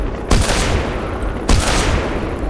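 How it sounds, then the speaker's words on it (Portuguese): Two sharp, loud gunshots crack about a second apart in a zombie apocalypse survival video game, each followed by a brief echoing tail over a constant noisy background. "Caraca, que tiro é esse"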